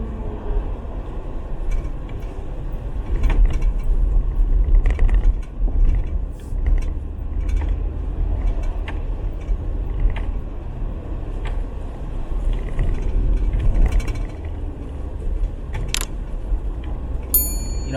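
A car drives westbound along Eglinton Avenue East in Toronto, just off Kingston Road; a steady low road rumble and engine hum run throughout from inside the vehicle, with occasional faint clicks and bumps and no talking.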